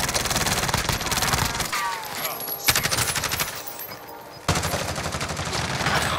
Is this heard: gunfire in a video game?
yes